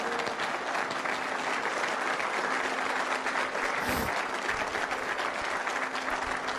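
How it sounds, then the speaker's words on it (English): A crowd applauds at a political event, a dense, steady wash of many hands clapping for several seconds with no break. "he's clapping"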